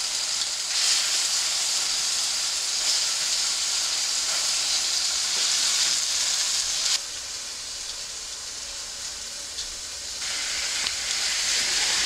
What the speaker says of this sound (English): I'm mainly sealing the meat.